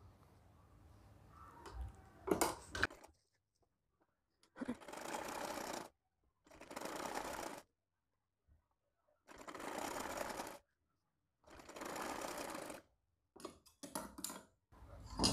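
Sewing machine stitching around the armhole of a frock, running in five distinct bursts of about one second each, separated by pauses, with a few shorter clicks and handling noises at the start and end.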